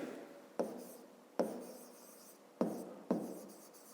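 A pen writing on paper while working a fifth-grade maths exercise, four distinct scratchy strokes spaced unevenly, each a short rasp that fades, close and alone with no talk.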